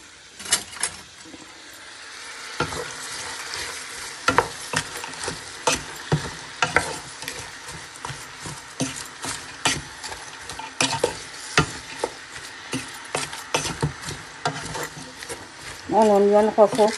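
Onions sautéing in a pan for chicken biryani, with steady sizzling and repeated scrapes and clacks of a spatula stirring, and a person speaking over the cooking.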